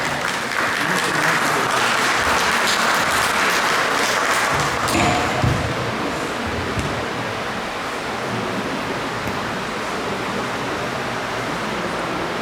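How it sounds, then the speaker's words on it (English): A conference audience at a Nigerian embassy event applauds steadily and loudly for about five seconds, then the clapping thins into a softer, sustained patter that continues for the rest of the moment. "a round of applause for him."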